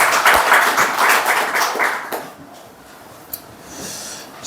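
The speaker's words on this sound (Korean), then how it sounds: "우리 박수로 하나님께 영광 돌리고" A church congregation claps together in broad, dense applause that fades after about two seconds into quieter room noise with a few scattered claps.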